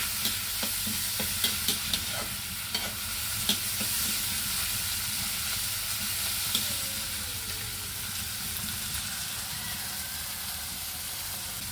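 Tomatoes fry in a pan with a steady, close hiss and sizzle, while a utensil scrapes and taps the pan several times early on.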